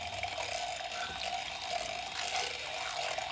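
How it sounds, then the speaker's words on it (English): A small whisk beats a raw egg in a bowl, a steady close rattling and clicking that runs continuously without pause, with no talking over it. "I'm going to beat mine a little bit. I just have a little whisk here."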